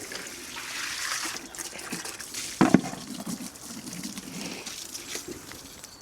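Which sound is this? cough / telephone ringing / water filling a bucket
water filling a bucket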